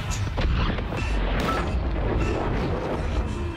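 Loud, dense rumbling blast with heavy low-end booms and debris-like crackle sustained throughout, an explosion aboard a spaceship in the Dead Space Remake video game.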